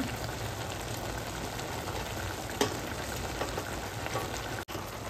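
A mixed vegetable bhaji with spices fries in a pan, a steady close sizzle and crackle with light stirring, one sharp clink midway and a brief cutout near the end.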